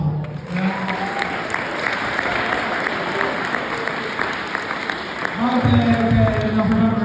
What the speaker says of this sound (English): How about a round of applause for everybody that helped make today possible?